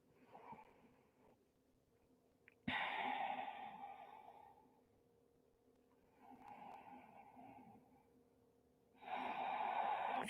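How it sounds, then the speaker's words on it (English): Slow, audible breaths during a yoga session alternate between long inhales and louder forceful exhales, close and rhythmic in a quiet room. "Deep breathing with sound."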